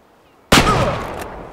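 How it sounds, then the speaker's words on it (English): A single loud, close .338 Lapua rifle shot in the hunting game Way of the Hunter, a sudden heavy blast that trails off in a long rumbling echo. "Jeez, that was a gut shot and a half"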